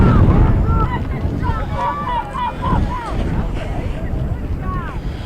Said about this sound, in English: 48 degrees and falling when we arrived, and the wind howling.